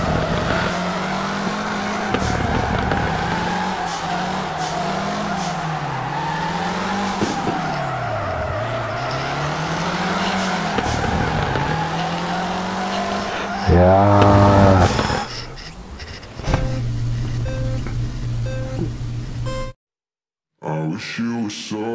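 A car drifts on the handbrake in the FR Legends driving game: an engine revs and wavers under a continuous tire screech, then shifts to harsher bursts before cutting out briefly near the end.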